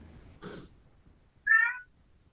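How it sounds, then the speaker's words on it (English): A single clear cat meow rises after a quiet stretch with a brief faint sound earlier, the mew short and nearby, standing alone in an otherwise still room. "Oh, I just heard a meow."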